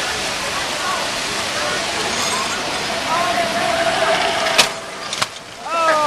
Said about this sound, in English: Oh, that was a back splash.